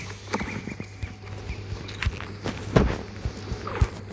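Hooves of a horse in a video game clip-clop at a steady walking pace over a faint steady hum, with a few louder thuds near the end.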